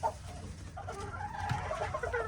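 Pullets, prize-winning young hens, cluck softly and steadily in a coop, with a low continuous murmur of fowl close by throughout.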